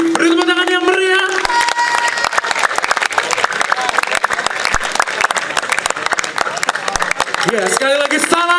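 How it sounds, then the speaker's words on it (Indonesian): A theater audience bursts into loud, sustained applause after a stage play, with dense clapping filling the whole stretch and brief tonal sounds at the start and end. "Beri tepuk tangan yang meriah."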